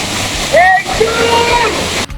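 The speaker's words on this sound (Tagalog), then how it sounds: "sobrang lakas ng agos galing sa falls" Strong water current rushing down from Balagbag Falls, a steady loud roar of falling water with a brief splash; tonal whistle-like sounds and a voice-like trace sit over the rush, and the clip cuts off abruptly at the end.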